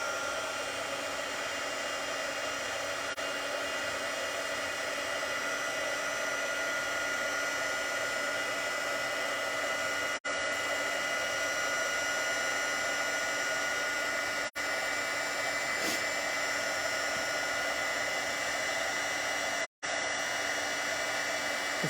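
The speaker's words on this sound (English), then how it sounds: "it's going to get loud for a minute here so we can get this embossed" A heat embossing tool blows with a steady, loud whooshing hum, continuous for the whole stretch with only tiny breaks.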